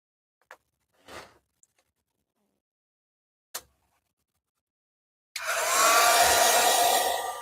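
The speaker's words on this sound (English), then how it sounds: "I'll make sure my heat gun is really nice and hot before I bring it to my embossed, uh, to my stamped image." A heat gun for card-making embossing switches on and blows hot air with a loud, steady whooshing roar, preceded by a few faint isolated taps and rustles.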